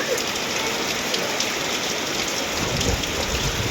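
Steady heavy rain pours down in a constant broadband hiss, with a low rumble rising near the end.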